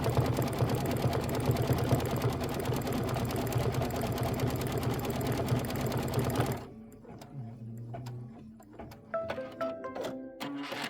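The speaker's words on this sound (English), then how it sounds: "We only have 2 more minutes of stitching." Sewing machine stitching fabric pieces for a quilt block, a loud steady mechanical hum and rapid needle rattle for over six seconds, then stopping, followed by quieter handling clicks and rustles.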